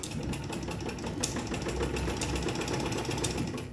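A sewing machine runs with a steady, dense mechanical whir throughout, close and even, with no one speaking.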